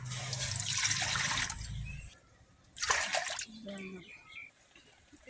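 Water pours into a kadai with mango pieces over an earthen stove in two splashing bursts, the first longer and steadier, the second short, with quiet gaps and a brief voice between.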